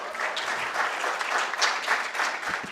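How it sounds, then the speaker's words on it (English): Dense, sustained applause from an audience at a literature festival event, a steady wash of many hands clapping at even loudness throughout, with no talk over it. "let's have a huge round of applause for Sukhda"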